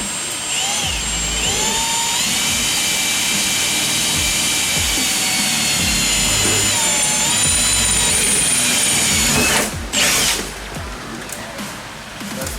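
A power drill whines steadily at close range for about ten seconds, drilling holes in a Toyota 4Runner, then cuts out, leaving quieter clatter and handling noise.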